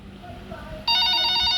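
A telephone in a night-shift nurse video game starts ringing suddenly with a bright, sustained electronic tone after a quiet stretch of low background sound.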